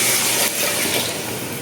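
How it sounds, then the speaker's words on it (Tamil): Water poured into a pan of mutton masala with separated oil while cooking mutton biryani, a steady close hiss and splash that runs the whole short stretch with no talk. "இந்த டைமில் தண்ணி சேர்த்துக்கலாம்."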